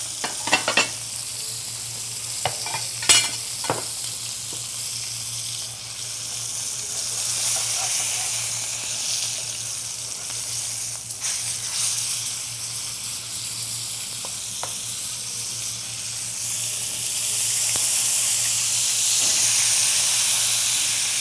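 Fish sautés in a hot pan with freshly squeezed lemon juice, sizzling and hissing steadily throughout, with a few sharp clicks early on and the frying swelling louder toward the end.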